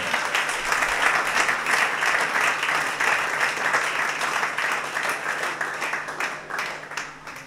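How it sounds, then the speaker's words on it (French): Church congregation at a Sunday service applauding two women, a broad wash of clapping that holds strong for several seconds, then slowly thins and softens toward the end. "Est-ce que nous pouvons faire une acclamation à ces deux femmes ce matin?"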